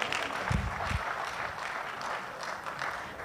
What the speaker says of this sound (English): A round of applause for the photo as well.